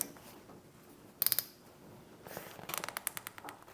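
Quick bursts of plastic ratcheting as zip ties are cinched tight on an enclosure: a short cluster of clicks, a pause, then a longer run of sharp, close clicks against quiet room hiss.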